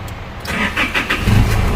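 A 2012 Isuzu D-MAX 2.5 manual pickup engine cranks and catches, settling into a loud, close idle within under two seconds.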